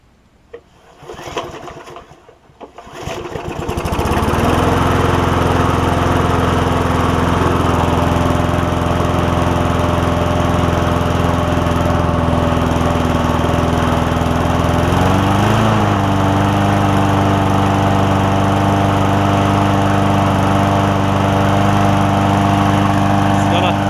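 A Murray push mower with a classic Briggs engine coughs through a few rough attempts, then catches and settles into a loud, steady running drone with a brief pitch wobble midway; no voices.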